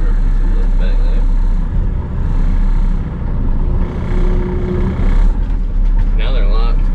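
A semi truck drives slowly to check its trailer during hookup, a steady loud engine rumble running throughout with a voice talking over it.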